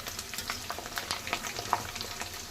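Small baby potatoes fry in a pan with soft, continuous sizzling and faint crackles and stirring, quiet and close.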